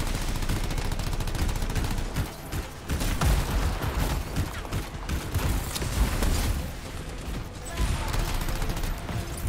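Sustained gunfire in the video game Anthem, a dense, continuous barrage of rapid shots and booms filling the whole stretch at steady loudness, with no talk over it.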